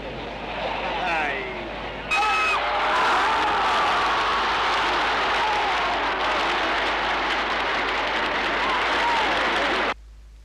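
Huge stadium crowd of some 90,000 to 100,000 spectators at an international Spanish football match, a dense continuous roar that swells loudly after a brief quieter start and holds steady before cutting off, with whistles and voices mixed in.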